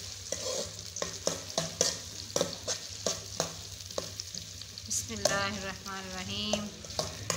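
Chopped onions going into hot ghee in a pan for a home-style sabzi, with stirring clatter and a soft sizzle; someone speaks briefly over the cooking.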